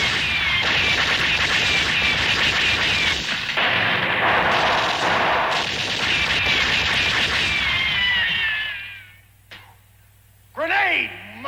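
A grenade explosion in an old public-domain monster movie: a long, loud blast-like roar of heavy gunfire and rumble that fades out, followed by a shrill rising wail at the end.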